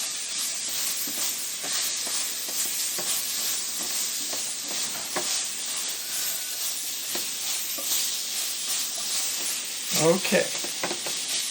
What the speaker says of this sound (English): just take our tongs here, and I'm going to kind of mix them up like this and get them going here